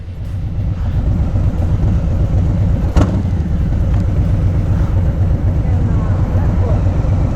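Motorcycle with slip-on exhausts that have had their baffles removed, a loud continuous engine drone close by with steady low rumble throughout and a brief sharp bump midway.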